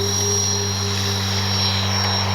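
Steady, loud electric motor whine with a sustained high tone from a Flightline OV-10 Bronco RC model plane taking off from grass with flaps set, heard close and unbroken throughout.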